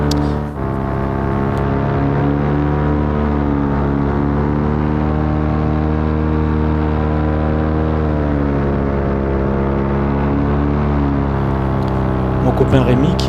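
A paramotor engine drones steadily in flight, a loud, constant buzzing roar with rich harmonic tones, close to a camera mounted on a pole beside the motor, with a slight pitch dip midway.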